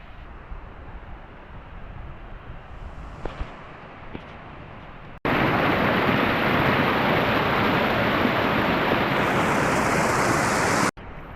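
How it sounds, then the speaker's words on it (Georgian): A mountain river rushes down a valley on a hiking route in Khevsureti, its steady broadband roar suddenly loud and close after a quieter stretch of fainter outdoor ambience. "აქ უკვე საკმაოდ კარგი მდინარე ჩამოდის"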